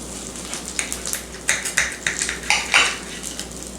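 Cutlery scraping and clinking against a plate while slicing through cooked chicken parmesan, a run of about a dozen short, sharp metallic scrapes and taps up close, loudest toward the end, with no talking.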